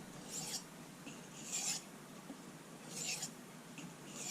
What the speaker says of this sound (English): Fewer alternating strokes to weaken up that burr and prepare it for removal.